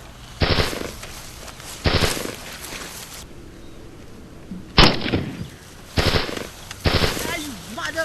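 Sniper fire rings out in a video game, several sharp loud shots spaced a second or so apart over low ambient game sound, with a brief electronic sweep near the end.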